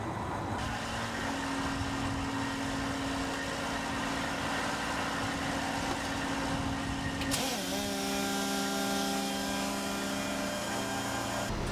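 A tractor engine drones steadily with a mechanical whine during liquid offloading. Partway through, the hum shifts pitch as the power takeoff drive engages to run the blower and keeps running.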